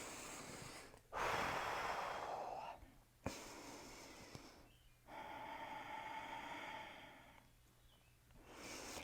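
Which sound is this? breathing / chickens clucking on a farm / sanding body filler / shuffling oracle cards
breathing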